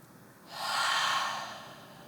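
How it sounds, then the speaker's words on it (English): A single slow, deep breath during a yoga flow, soft and close, with a gentle airy exhale swelling and then fading, no talking. "Let's take a few more breaths here"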